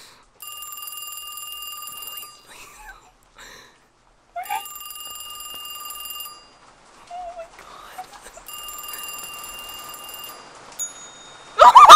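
A telephone rings in the horror game Kiosk, set in a haunted burger shop. Three separate bursts of bright, shrill ringing are spaced by short pauses, with faint rustles and small noises in between.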